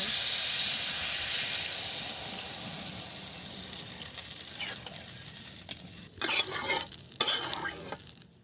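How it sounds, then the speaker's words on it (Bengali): Water poured into frying spice paste with ridge gourd, cooking for a small-fish curry: a steady sizzling hiss that flares into louder, sharper bursts near the end. "এবার আমি জল ঢেলে দিচ্ছি"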